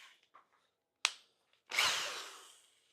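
A power drill bores into material while a DIY dust and fume extraction room is built for a CNC lab. After a sharp click, one short close burst of drilling fades out in otherwise quiet surroundings.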